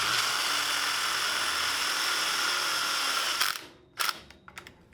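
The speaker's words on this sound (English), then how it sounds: "Finally, I'll attach this with a screw." Close, loud electric drill driving a screw to fix a leg onto a DIY camper kitchen slide-out, a steady high whine for about three and a half seconds that stops abruptly, followed by a few short clicks and handling taps.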